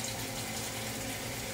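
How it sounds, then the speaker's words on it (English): Water pours steadily into a pot of venison steaks being cooked for gravy, a continuous even splashing and running sound, close and moderately loud, with no voices. "We're gonna add a little water."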